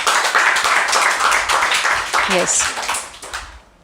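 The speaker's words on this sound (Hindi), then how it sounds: "जोरदार तालियां अंश के लिए भी" Classroom clapping for a student during spoken testimonials about each child, a dense patter of hands that runs under a talking voice and fades toward the end.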